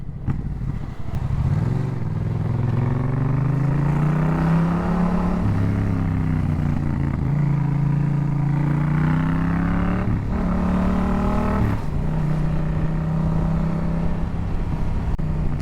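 A 2024 Yamaha Tracer 700 A2 motorcycle being ridden: a loud, steady engine drone close by, rising and falling in pitch as the throttle opens and eases, with no talk.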